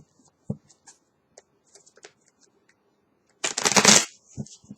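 A few faint taps and clicks, then a quick, crisp riffle of tarot cards shuffled close up, ending with light card handling.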